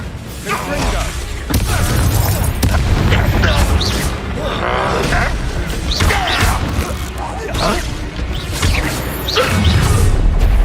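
The Expelliarmus spell cast in the Hogwarts Legacy video game, loud whooshing bursts and crashing impacts repeating through busy combat noise, with a voice shouting between the hits.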